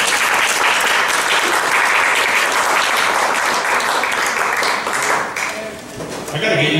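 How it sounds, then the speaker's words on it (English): Loud, close applause from a Tea Party political rally audience, dense clapping that holds strong for about five seconds, then dips and briefly swells again as a voice cuts in. "So give yourselves a round of applause for that."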